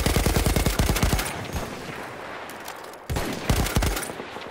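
An MG 08/18 machine gun fires in a video game battle at Tsaritsyn, loud close bursts of rapid shots, a long rattling burst, a pause with fading echo, then another burst.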